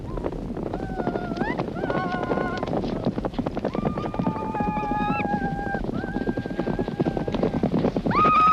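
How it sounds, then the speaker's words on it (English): Horses galloping in a Mongolian race, ridden by children over a long cross-country course: rapid, dense hoofbeats drum continuously, with high whinny-like tones and wind noise over them. "Mongolian horse racing is certainly exciting."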